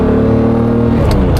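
Lamborghini Diablo V12 engine pulling hard from inside the car, a loud, deep, steady rising drone with strong low harmonics throughout.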